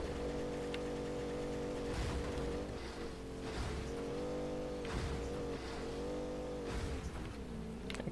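A revving car engine drones steadily with shifting pitch, rising and dipping as it accelerates, with a synthetic, game-like tone and no talking.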